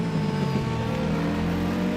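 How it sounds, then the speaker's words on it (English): Race car with a high-revving four-cylinder engine and almost no exhaust, running at a European Hill Climb Championship round at Glasbachrennen, a sustained buzzing drone at steady pitch, fairly close, with no talk. "high revving 4-cylinder engines with almost no exhaust system, they always sound like letting out a bunch of angry bees"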